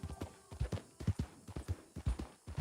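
Horse hooves clop in a steady brisk rhythm, close and clear, as a rider travels on horseback in the video game Red Dead Redemption 2.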